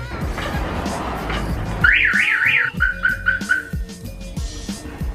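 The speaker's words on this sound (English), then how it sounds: "Viper alarm tilt sensor. I guess it works." Close Viper car alarm on a Nissan 350Z, set off by its tilt sensor, wails in a rising and falling siren pattern, then switches to short repeated chirps, over some background clatter.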